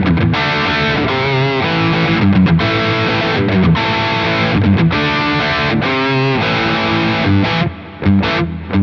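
Chunky high-gain electric guitar rhythm through a Quad Cortex, dense distorted chords played continuously and loud, with a brief dip near the end.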